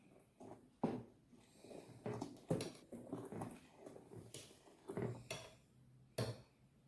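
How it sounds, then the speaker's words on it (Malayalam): A spoon stirring salted palappam rice batter in a pot, giving irregular scraping knocks and clinks against the vessel, fairly close and quiet, with no talk. "നന്നായിട്ടൊന്ന് ഇളക്കി കൊടുക്കാം."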